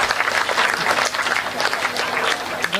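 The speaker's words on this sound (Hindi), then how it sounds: "ताली जोरदार हो जाओ" Audience clapping loudly and steadily after a punchline at a Hindi stand-up comedy show, a dense broadband wash of many hands from a close crowd, sustained throughout.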